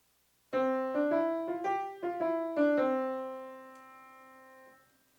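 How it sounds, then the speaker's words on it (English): A jazz keyboard plays a short run of swung eighth notes with a long-short lilting rhythm, the notes rising then falling before a final held tone decays slowly; close, clear and unaccompanied. "swing eighth notes sound more like this"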